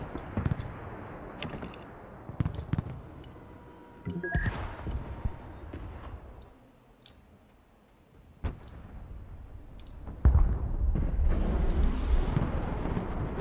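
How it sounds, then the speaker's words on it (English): Artillery fire in the war game Broken Arrow: scattered deep booms and sharp cracks at varying distance, with a quieter lull midway before a loud rumbling barrage builds near the end. "Artillery in combat!"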